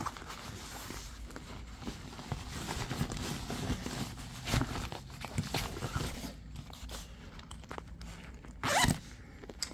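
A zipper on a Nomatic travel bag is drawn closed in several quick, raspy pulls, faint and close amid light handling and rustling, with a sharper final zip near the end.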